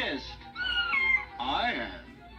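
A voice imitates cats meowing during a read-aloud of a children's picture book, with a few stretched, whiny mews in quick succession, loud and close.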